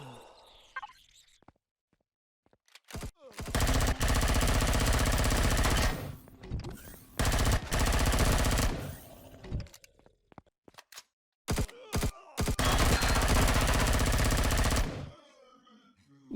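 Turret gunfire in the sci-fi survival game Empyrion Galactic Survival, inside an abandoned bunker: loud, close, rapid automatic bursts lasting a few seconds each, separated by brief pauses and a few single sharp shots.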